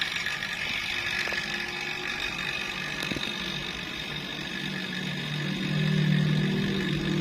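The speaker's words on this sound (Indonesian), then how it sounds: "lalu nyalakan ke pom vakumnya" Vacuum pump of an LCD laminating machine running, a steady whirring motor hum with tonal drone that rises slightly in pitch near the end, continuous and close, no speech.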